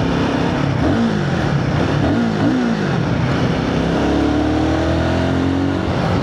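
A loud Royal Enfield Guerrilla 450 motorcycle engine revs up and down in sweeping surges, close and continuous, with a constant rough roar underneath throughout.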